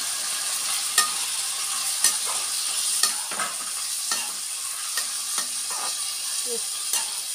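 Spice paste sizzles steadily as it fries in a pan with fried potato, while a utensil scrapes and stirs it in regular strokes roughly once a second, close and fairly loud.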